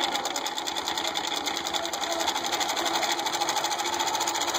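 A longarm quilting machine stitches along a quilt in a continuous, steady rapid mechanical hum and chatter, close and even throughout.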